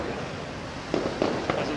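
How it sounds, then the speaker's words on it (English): Fourth of July fireworks show over downtown Grand Rapids, heard from the street while walking: several distant muffled pops and bangs, partly hidden behind buildings, over steady city background noise. "As it looks like the fireworks are still behind the building, at least for the time being."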